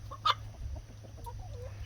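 Chickens clucking softly while pecking at their food, a few short calls near and faint over a steady low hum, with one brief louder squawk early on.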